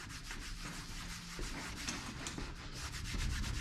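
Plastic car trim restorer being rubbed in by hand, giving a steady, close, soft scrubbing and rubbing sound with no talking.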